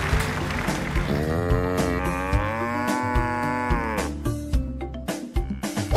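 A toy cow moos in a long, drawn-out electronic call, close and clear against a low steady hum, with no talk over it.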